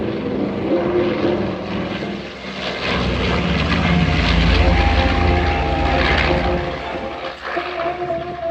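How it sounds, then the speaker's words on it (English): A loud B-25 propeller-driven bomber roars past from right to left at an air show, its engine drone swelling and holding steady for several seconds before easing off, with no voices. "watch here as the airplane comes from right to left. Listen to the beautiful sound of freedom."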